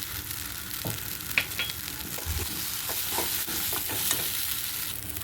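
Taro mash being stirred and fried in a pan with salt and turmeric, a steady soft sizzle broken by irregular scraping strokes of the spatula, close by and with no talk.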